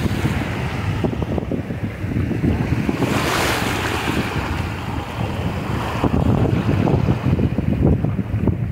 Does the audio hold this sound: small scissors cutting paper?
no